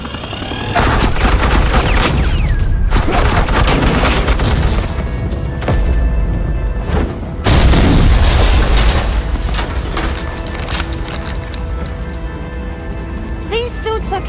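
Sustained heavy automatic gunfire pours down in a dense, loud barrage for the whole stretch, with booming bursts and rotor-like rumble from a helicopter in a Batman animated episode.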